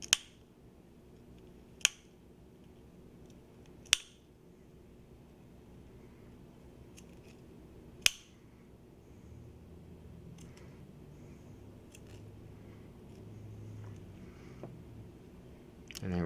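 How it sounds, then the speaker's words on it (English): Bone nippers snap through a cat's ribs during a chest dissection, four sharp, crisp crunching clicks spaced a couple of seconds apart over quiet room noise, followed by softer faint handling sounds. "and then using our bone nippers to cut away the ribs."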